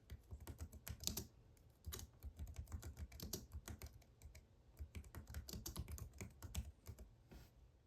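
Fast, uneven keystrokes clatter on a computer keyboard, close and fairly quiet, in bursts with brief pauses and no talking.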